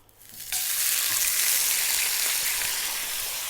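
Skinless Dover sole hits hot oil in a non-stick pan, the quiet start giving way to a sudden bright sizzle that stays loud and even, close up, with no speech.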